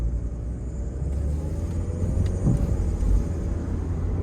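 A Scion tC with a blown rear strut drives along, giving a steady low engine and road rumble with a faint knock partway through.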